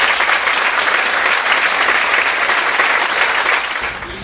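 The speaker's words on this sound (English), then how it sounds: "So we applaud them as well." Audience applause at a university honors convocation, a dense steady clapping from a large crowd that holds for about four seconds and then begins to fade.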